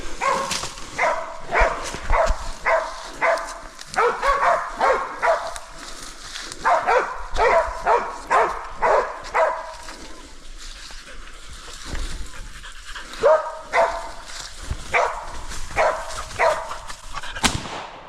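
Hunting dogs bark in excited bursts during a wild boar hunt, several rapid barks at a time with short pauses between, some yips mixed in, fairly close.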